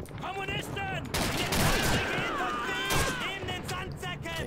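Rapid bursts of gunfire in the World War II shooter Call of Duty 2 crackle through the scene, with voices talking over and between the shots.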